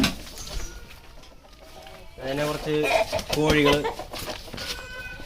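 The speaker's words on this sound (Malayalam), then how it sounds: "കോഴികളൊക്കെ ഉണ്ട്." Chickens cluck and coo on a goat farm in a short burst of several calls midway, heard close, while someone talks over them.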